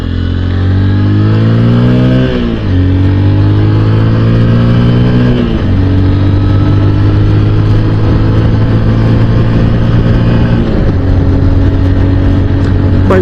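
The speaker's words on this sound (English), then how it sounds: "Bike gets up to 30 plenty fast. Beyond that, you know, it's pretty lackadaisical acceleration." Honda XR150L motorcycle engine pulling hard through several gears on an open road, each shift marked by a brief dip before the steady drone climbs again, loud and close throughout with no talking.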